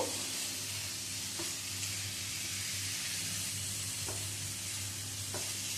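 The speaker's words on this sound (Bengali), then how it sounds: "এবারে এর মধ্যে দিয়ে দেব ভেজে রাখা আলু আর ওলকচিটা। আলু আর ওলকচি দিয়েও আবারও কিছুক্ষণ কষিয়ে নেব।" Fried potato and elephant foot yam pieces sizzling and being stirred in a pan for a vegetarian curry, a steady close hiss with a few soft scraping knocks from the spoon, no talk.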